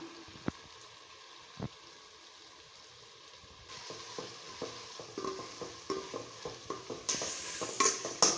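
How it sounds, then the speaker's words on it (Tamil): Chopped tomato with a little salt sautés in a hot pan, a soft steady sizzle with scattered stirring scrapes and taps that grow busier and louder toward the end, no voices. "பெரிய தக்காளி ஒரு தக்காளியை வந்து கட் பண்ணி சேர்த்துக்கோங்க இது கூடவே உப்பு கொஞ்சமாக சேர்த்துட்டு நல்லா வதக்கிக்கலாம்"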